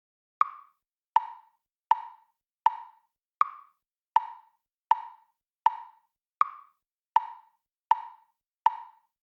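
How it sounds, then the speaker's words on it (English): A metronome ticks twelve even, crisp clicks at a steady moderate tempo, close and clear against silence, with every fourth beat marked as an accent. "Let's hear 12 beats played by the metronome."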